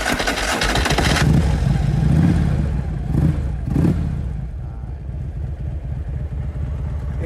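A 2008 Harley-Davidson Street Glide bagger with a custom aftermarket exhaust starts up and idles loudly up close, with a deep throbbing rumble, a couple of blips of the throttle in the middle, then settling into a steady lumpy idle.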